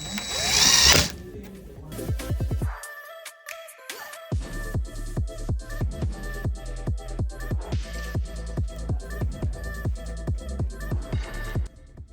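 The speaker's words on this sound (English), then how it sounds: "grab your longer screw and we're gonna go right into the pre-drill" A power drill whirs briefly, then a rapid, evenly pulsing mechanical rattle runs for several seconds as it pre-drills a hole for a long screw while assembling cabinet boxes, close and alone.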